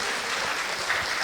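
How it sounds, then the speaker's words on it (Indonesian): A crowd claps steadily in a dense, continuous burst of applause, fairly close, with no pauses across the short stretch. "Tepuk tangan bagi Allah kita"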